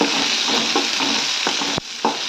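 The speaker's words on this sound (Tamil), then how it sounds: "வெங்காயம் கொஞ்சம் வதங்கினா போதும்." Onions sautéing in a pan for millet dosa, a steady dense sizzle with scattered stirring scrapes and clicks, loud and close throughout with no voices.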